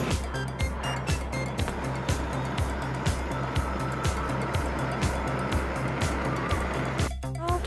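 A car drives along a road on the way to the airport, its engine and tire roar forming a steady, loud rumble with rhythmic low thumps throughout, no clear talk over it.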